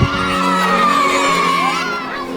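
Schoolchildren in Papua shouting and cheering together as a food delivery car arrives, a loud, continuous crowd of high-pitched excited voices throughout.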